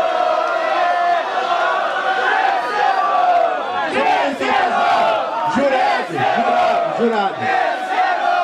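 A loud crowd at a Brazilian freestyle rap battle final in Vila Isabel cheers and chants in unison, with rhythmic shouted syllables over a dense, continuous roar of voices throughout.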